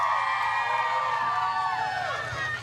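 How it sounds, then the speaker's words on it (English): A crowd cheers continuously at the AKC Premier Cup 2025 dog agility competition. Rising whoops and high whistles ring over a dense, steady roar of voices. "the crowd is just cheering on Chelsea"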